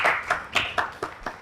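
Sparse clapping from a talk-show studio audience greeting guest Richard Flash, a handful of distinct hand claps in uneven rhythm, close and moderately loud with a faint background hiss.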